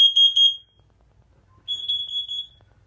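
Nest smoke and carbon monoxide detector alarm sounding in two loud, piercing high-pitched beeping bursts, rapid pulses at first then a steadier tone, close by with a short quiet gap between.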